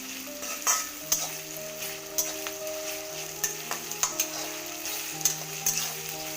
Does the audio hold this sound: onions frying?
yes